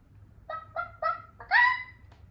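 A person imitating a chicken during a party game, with four short honking, squawking calls in an uneven rhythm, the last one longest and loudest, close and alone with no other talk.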